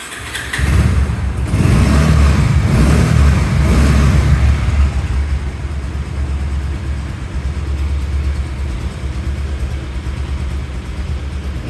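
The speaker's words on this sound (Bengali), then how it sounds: "তো আমি বাইকটি এখন আপনাদের মাঝে একটু স্টার্ট দেব," A 2024 Bajaj Pulsar SD ABS motorcycle with about 1,124 km on it starts up and settles into a steady, smooth idle, loud and close, with a brief burst of revving at the start.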